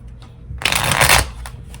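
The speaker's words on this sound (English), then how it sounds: "Let me shuffle real quick." Tarot cards are shuffled loudly and up close in one dense riffling burst lasting about half a second, with lighter card taps before and after.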